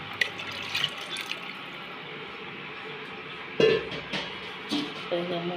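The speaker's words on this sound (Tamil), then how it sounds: "ஒரு அரை டம்ளர் தண்ணியில் கரைச்சி இதில் ஊற்றிடுவாங்க" Tamarind water is poured and splashes in a few brief bursts into a cooking pot, with soft drips and background room noise.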